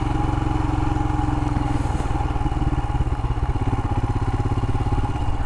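A Royal Enfield Himalayan motorcycle thumps along steadily at a loud, close, even engine rhythm while being ridden, with no voices over the continuous mechanical rumble and clatter.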